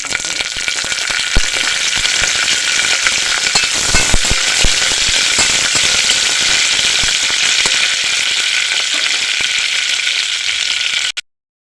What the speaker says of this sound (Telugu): కొంచెం జీడిపప్పు కూడా వేసి ఒకసారి వేయించుకుంటాం